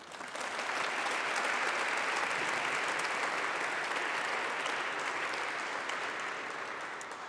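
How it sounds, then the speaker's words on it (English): A lecture audience gives a large, sustained round of applause as a speaker is introduced at a public conversation event. The even clapping swells quickly, holds steady throughout and fades slightly at the end. "Please give a big round of applause to Dr. Robert George."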